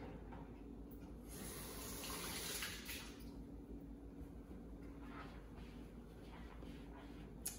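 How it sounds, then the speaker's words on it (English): Running water from a kitchen sink tap pours steadily as a tablespoon is rinsed, a continuous broadband splash with a brief louder surge partway through, close and without talk. "Let me clean off my tablespoon real quick here in my sink."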